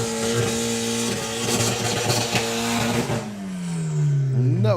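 A drag race car engine at a drag racing event, a loud roaring drone with strong harmonics that holds and then drops sharply in pitch as the driver lifts off the throttle, followed by a rising whine near the end.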